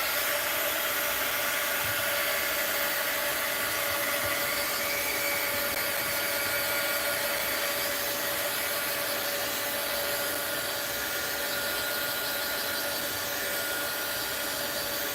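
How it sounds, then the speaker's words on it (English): A heat gun drying a mixed-media art journal page, blowing a steady, loud, unbroken hot-air whoosh close by the whole time, with no voices. "And let's dry that. Heat gun alert."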